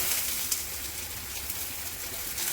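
Mixed vegetables with turmeric and fried soybean sizzle steadily in a hot pan, a loud, continuous hiss with faint crackles throughout.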